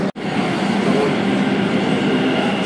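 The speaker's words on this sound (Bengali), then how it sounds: "ট্রেন কিন্তু ঢুকে গেছে।" A Kolkata metro train pulls into an underground station beneath the Ganges, a loud, steady rumble and roar of wheels and motors filling the platform after a brief dropout at the start.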